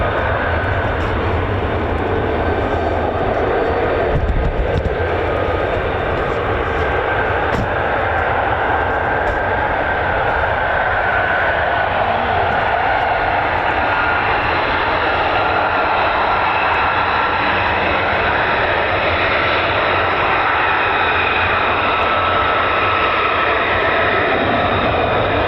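F-15 fighter jet engine roaring at an air base, a steady, loud, broadband rumble that holds for the full stretch with no talk over it.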